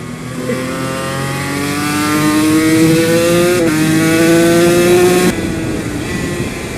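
Yamaha TZ250 two-stroke race motorcycle revving hard while being ridden, the engine note climbing steadily through the gears with a brief shift, loud and close with rushing wind.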